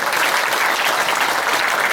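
Sustained audience applause, dense and steady throughout, with no one speaking over it.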